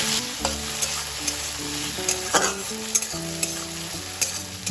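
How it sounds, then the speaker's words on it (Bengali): Salted, turmeric-coated shrimp fry lightly in oil, a steady close sizzle broken by scattered spatula scrapes and stirring clinks, with no voices. "চিংড়ি মাছটাও তেলে হালকা ভেজে নেব"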